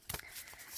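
Tarot cards being shuffled by hand, a brief soft riffling and flicking of the deck, close and quiet with no talk.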